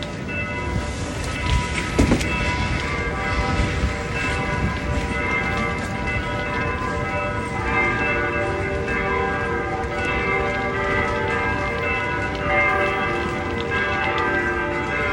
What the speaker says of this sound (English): I just want to hear the church bells